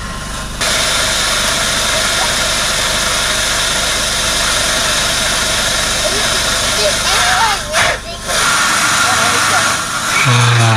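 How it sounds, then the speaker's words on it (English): A 4WD engine idles with a steady, rumbling drone throughout, its exhaust inflating an exhaust jack, with faint voices briefly audible near the end. "it'll use the exhaust to blow it up"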